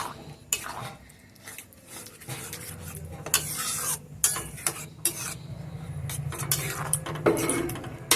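A spoon stirs egg bhurji into dhaba-style egg tadka in a pan, with irregular scraping and clinking strokes over a low sizzle, close and moderately loud.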